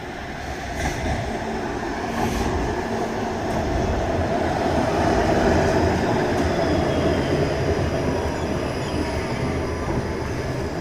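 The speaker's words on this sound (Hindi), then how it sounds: "ट्राम जो है ना, इनकी अभी तक चलती है" A streetcar rolls along its tracks at night in Toronto's Gerrard India Bazaar area, a steady rumbling roar of wheels on rail, fairly loud and continuous throughout with no talk.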